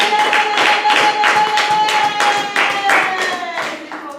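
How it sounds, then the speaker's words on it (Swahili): A church congregation clapping at a Saturday worship service, a loud, rhythmic run of synchronized claps close by, with a sustained sung or ululating tone running over the beat. "Utanisaidia kupiga makofi na vigelegele kwa ajili ya upendo wa Mungu"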